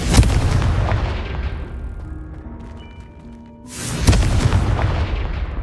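Two heavy explosive blasts from the Confringo spell in the video game Hogwarts Legacy, each a loud, deep boom with a long rumbling decay, separated by a few seconds of quieter tonal ambience.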